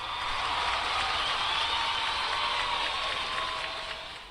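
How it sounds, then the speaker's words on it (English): Broadband crowd applause and cheering at a live ringside wrestling broadcast, steady and dense throughout, fading slightly toward the end. "everybody on our side of the board heard the applause in the crowd going wild"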